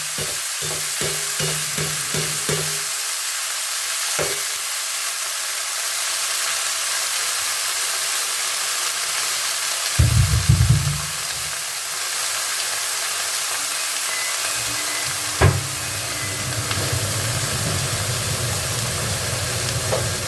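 Radish greens tossed into hot oil with nigella seeds in a wok, a loud, steady frying hiss with a few quick knocks at the start and scraping stirs that flare up now and then, no speech.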